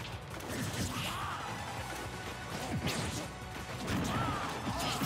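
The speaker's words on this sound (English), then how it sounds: "JW still going for those F smashes." Forward smash attacks in Super Smash Bros. for Wii U, in a Greninja versus Meta Knight tournament match, give repeated heavy crashes and whooshes within a dense, continuous game and crowd soundscape.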